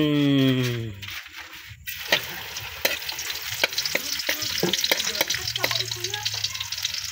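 Garlic dropped into hot oil and frying, a loud hiss bursting in after a brief quieter start, then crackling and spattering with scattered pops.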